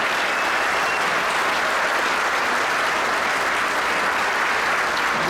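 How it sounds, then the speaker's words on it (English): A crowd at a LiUNA Local 183 children's festival gathering applauds the spouses and families of union stewards and safety reps, loud, continuous clapping with no break. "please join me and give a round of applause to the spouses and family members of our stewards and health and safety reps"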